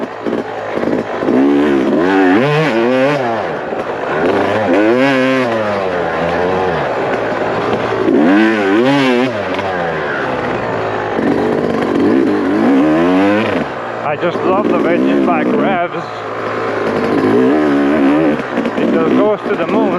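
A Yamaha or KTM dirt bike lapping a sand track, its loud engine revving up and down in repeated rising and falling sweeps as the rider works the throttle through the sand, close and continuous for the whole stretch.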